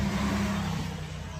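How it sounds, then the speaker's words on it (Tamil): A road vehicle goes by outdoors, a steady medium engine hum with slight revving that holds and then softens as it passes, heard alone. "வண்டி போகுது."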